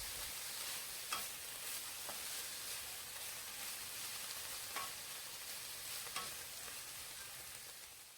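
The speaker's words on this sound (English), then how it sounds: "So you just move things around and allow everything to cook up." Pork fried rice ingredients sizzle and fry steadily in a pot, a continuous close hiss with occasional soft scrapes and clicks as the food is stirred around, no talking.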